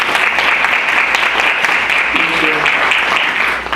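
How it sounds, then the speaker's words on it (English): Audience at a Democratic club endorsement meeting applauding a speaker, continuous crowd clapping heard up close, with a voice briefly talking underneath partway through. "Would you all give her a round of applause?"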